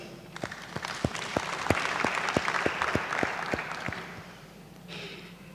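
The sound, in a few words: applause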